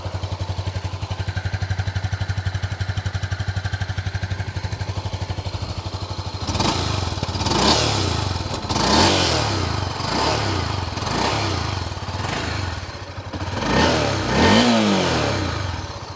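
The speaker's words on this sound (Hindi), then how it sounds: "जो एग्जॉस्ट नोट आपको Honda C B three hundred में सुनने को मिलेगा पहले सुनिए" A Honda CB300F motorcycle idles with a steady thumping exhaust, then the engine is revved repeatedly in loud, rising bursts, close to the microphone.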